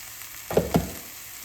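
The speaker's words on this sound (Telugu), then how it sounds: "పసుపు ఉప్పు వేస్తే కొద్దిగా ఉల్లిపాయ వేగుతుంది" Onions frying in a pan with turmeric and salt for a beetroot fry give a quiet sizzle, broken by two short louder bursts close together, like stirring, with no talking.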